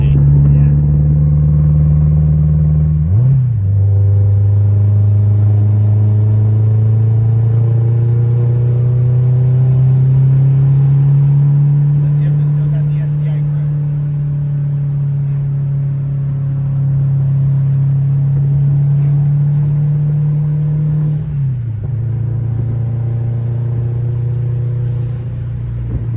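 A 1003-horsepower Subaru WRX STI drives along with a steady, smooth engine drone heard from inside. The pitch climbs gradually through a long pull, and two brief shift dips come about twenty seconds apart.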